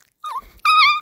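A dog gives two short, high whimpers, one weak and one stronger, close to the listener and separated by a brief pause.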